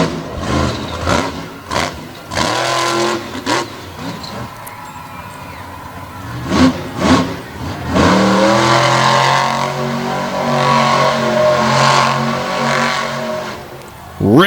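A monster truck does donuts on a dirt track at Brownstown, Indiana, its engine loud and close, revving in repeated bursts and then holding a long roaring, wavering rev, with a crowd or announcer faintly underneath.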